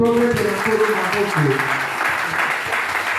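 A church congregation claps in praise of the Lord, a dense, continuous wash of applause mixed with raised voices and chanting throughout.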